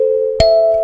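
Kalimba tines ring out in box 6: a sustained tone is joined by a second sharply plucked note that rings bright and clear, close and alone.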